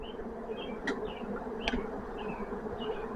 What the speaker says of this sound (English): Never thought you would get this close to bees before